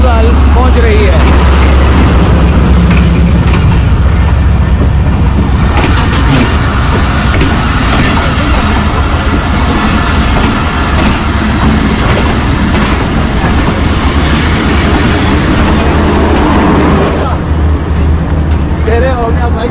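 A passenger train pulls into Sahiwal railway station in Pakistan, a loud, close rumble with rhythmic clacking of wheels over rail joints that continues throughout, with voices audible in the mix.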